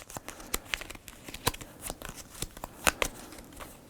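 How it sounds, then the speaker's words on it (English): A deck of cards for the board game Sine Tempore is shuffled close up, with soft riffling and sharp snapping flicks in an irregular rhythm, fairly quiet and with no talking. "Shuffle him back in the deck."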